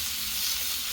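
Onions and peppers sizzling on a Blackstone griddle, a steady close hiss throughout.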